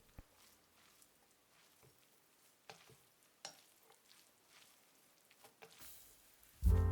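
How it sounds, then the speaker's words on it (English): Noodles stir-fried in a hot pan of oil over high heat for a Chinese chow mein, giving a quiet, steady sizzle broken by scattered scraping stirs, with a loud clatter right at the end. "Now we can stir fry."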